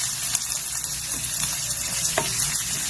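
Garlic and onion sauté in a hot pan while monggo with alugbati is being made, giving a steady broadband sizzle with faint stirring clicks throughout, close and fairly loud, with no talking.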